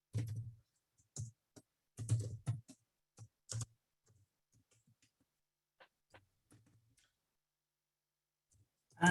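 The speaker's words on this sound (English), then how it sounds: "And whilst I'm sitting here typing" Bursts of typing on a computer keyboard, clusters of close, soft clicks separated by pauses, with a few sparse isolated taps and a quiet hum underneath.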